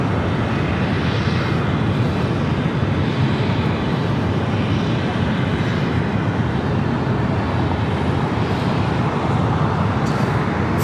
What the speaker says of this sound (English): Now bringing back the Qantas A380 Super back to the gates.